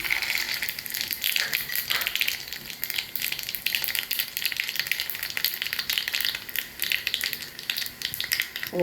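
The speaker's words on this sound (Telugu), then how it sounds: "ఈ పోపు గింజలు వేసుకుంటున్నామండి మనము." Tempering seeds frying in hot oil in a bowl for sukkakura pachadi, a continuous bright crackling sizzle with scattered pops, steady and close, no talking.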